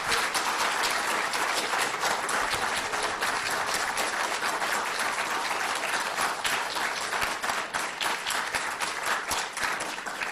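Loud, sustained applause from a large crowd at a congressional candidate debate, dense clapping that continues steadily throughout.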